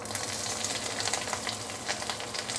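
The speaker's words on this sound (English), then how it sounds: "Once the oil is heated up, we can put in the fresh herbs." Fresh herbs sizzle and crackle in heated oil while being stirred for a vegetable curry, a steady close frying hiss with bursts of popping throughout.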